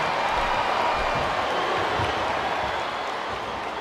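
A wrestling arena crowd at a WWE SmackDown six-man elimination tag match makes a dense, steady roar of cheering that stays loud throughout and fades slightly at the end.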